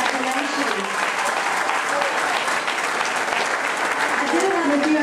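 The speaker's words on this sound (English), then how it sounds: "Give girls a big round of applause" Applause rings out for girls at a fifth grade graduation ceremony, a sustained crowd of clapping hands with voices and cheers mixed in, filling the room evenly for several seconds.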